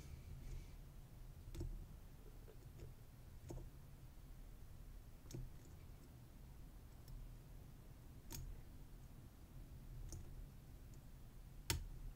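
A lock pick works the pins of a 14-pin Godrej Ultra Sherlock padlock, making faint, sparse, irregular small clicks and ticks over a quiet background, with a sharper click near the end.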